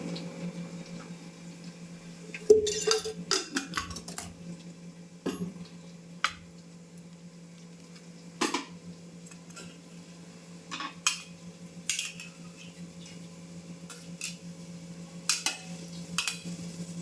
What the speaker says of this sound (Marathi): कांदा भाजून घेते मी. चमचा तेल टाकून घेते.